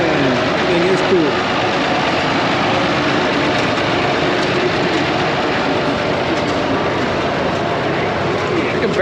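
An old Oliver 70 row-crop tractor engine runs at a tractor show gas-up, a quiet, smooth, even idle with a low steady hum that holds throughout amid faint outdoor background noise.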